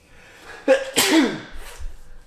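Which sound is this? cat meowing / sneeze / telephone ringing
sneeze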